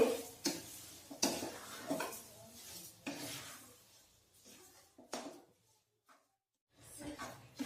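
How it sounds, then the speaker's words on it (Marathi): A spoon scrapes and clinks against a pan while sugar is stirred into carrot halwa, in irregular bursts of stirring with brief pauses, close and moderately loud. "आता आपल्याला साखर छान मिक्स करायची आहे।"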